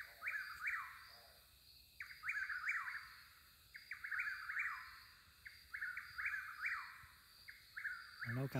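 Birds sing on and off along a hiking trail at night, loud repeating phrases with rising and falling whistled notes arriving in regular bursts, with no talking.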